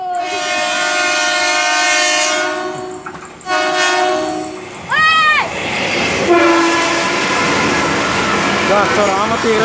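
A KRL commuter train, ex-Tokyo Metro Chiyoda Line 6000 series set 6001-6101, rumbles past with loud, sustained horn blasts, the horn sounding in long steady tones and then shorter bends, with voices talking over it.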